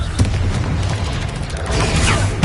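Confringo blasting spell cast in Hogwarts Legacy, a loud, dense booming burst of explosive rumble and crackle sustained for a couple of seconds without speech.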